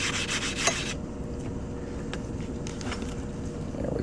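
Coin ring being sanded smooth: close, loud rasping friction for about a second, then fainter intermittent scraping strokes over a steady background hum.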